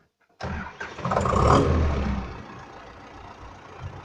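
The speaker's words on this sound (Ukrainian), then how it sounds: "Двигунчик заводиться." An MTZ-80 tractor's diesel engine cranks and catches with a loud rough roar, then settles into a steady, lower idle rumble close by.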